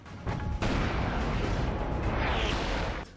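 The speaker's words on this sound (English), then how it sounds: "This little honey here is the AT-4 rocket launcher." An AT-4 rocket launcher fires with a loud, sustained blast that swells abruptly and roars at full volume for nearly three seconds before a sharp cutoff, heard close and alone.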